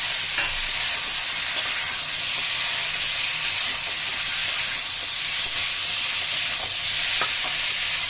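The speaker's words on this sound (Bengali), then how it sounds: "মশলাটা ভালোভাবে কষিয়ে নিতে হবে" Spice paste for a drumstick, potato and fish curry is stirred and fried in a pan, giving a steady, close sizzle throughout with scraping stir strokes and no talk.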